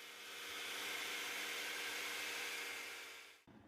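A drill bores holes in wax candle blanks held in a jig, giving a steady, loud whirring drone that runs alone without a break and then cuts off abruptly near the end.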